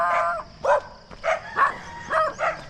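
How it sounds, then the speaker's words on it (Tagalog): Several dogs bark near the boundary of Santa Lucia: about six separate barks and yips come in an irregular sequence at moderate distance over a low background rumble. "May aso pala dito."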